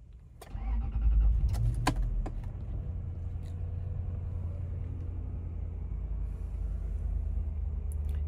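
A 2003 Toyota Land Cruiser engine cranks and catches with a loud surge, then settles into a steady low idle rumble, with a few light clicks and key jingles near the start.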